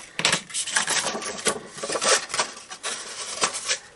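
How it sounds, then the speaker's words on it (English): Score lines on a paper gift bag are burnished with a tool, making repeated close scraping rubs in quick irregular strokes. "Give them a good burnish"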